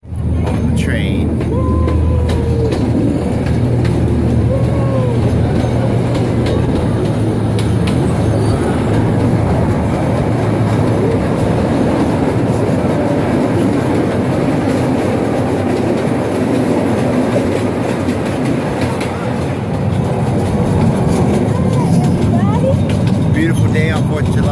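A train rumbles steadily along the rails with a continuous low roar and faint clatter, loud and close throughout, with occasional voices murmuring underneath.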